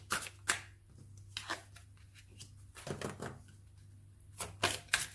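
Quick bursts of cards being shuffled for a card draw, several short riffling flurries spaced through the passage, close and moderately clear over a faint steady hum, with no talking.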